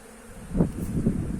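Honeybees buzz around their hives on a cool day during sugar feeding, a close, steady droning hum that swells slightly, with no voices.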